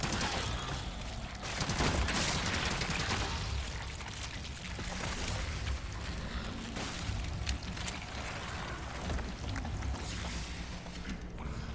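Submachine gun fire in the video game Resident Evil 4 Remake, a dense, continuous stream of rapid shots with a steady clattering roar that stays loud throughout, with no talking.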